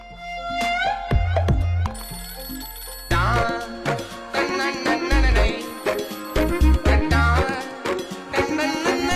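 Phone ringtone for an incoming call in a Hindi film, a loud melodic electronic tune with bright repeating notes and a thumping beat, playing alone and up close.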